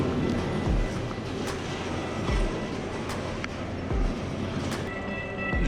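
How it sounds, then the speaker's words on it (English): Train rolling past at a railway crossing, a continuous rumble with rhythmic wheel thumps about once a second and a few sharp metallic clicks and squeals, moderately loud, with no speech. "of course there's a train, so we gotta wait for it now"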